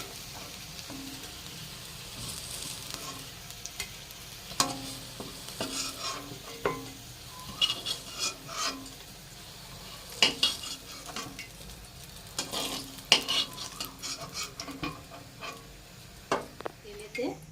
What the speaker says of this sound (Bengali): এরকমভাবে আমি সব কটা ভেজে নেবো আর একবার ঢেকে দেবো।